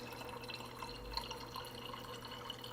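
Water dispensing from a Samsung Bespoke refrigerator's Beverage Center into a pitcher, a faint, steady trickle with light dripping under a low hum, heard alone with no talk.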